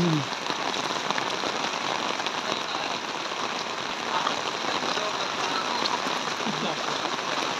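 Heavy rain from Typhoon Carina pours over flooded streets in Navotas City, a dense, loud, continuous hiss of drops that stays close and constant throughout.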